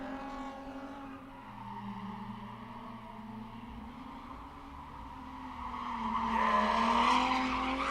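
A drift car at a track revs hard and shifts, its engine note rising and falling with clutch and throttle work, then climbs near the end as the tires squeal in a loud skid that carries from mid distance.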